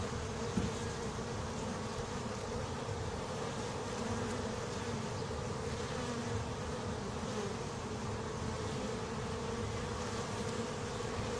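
Honey bees buzz at a hive entrance, a dense, continuous swarm drone that stays steady and close throughout with no voices.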